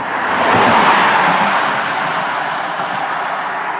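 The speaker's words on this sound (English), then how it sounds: "here comes the car as we speak" A car approaching along a quiet road at early morning, a broad rushing tyre and road noise that swells to a peak within the first second and then slowly eases, heard alone with no talk.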